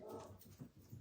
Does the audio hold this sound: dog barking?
yes